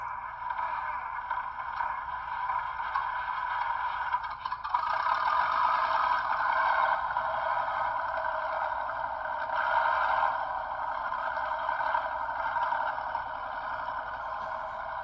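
A model Galloping Goose railcar's small speaker plays a coarse engine rumble that sputters at first, then catches and settles into a steady, droning idle.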